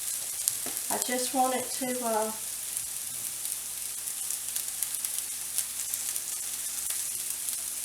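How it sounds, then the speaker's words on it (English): Corn kernels sizzle in bacon drippings in a pan and get stirred, a steady broadband fry hiss running throughout, with a person speaking briefly near the start. "The corn is kind of browning just a little bit on the bottoms as I stir it."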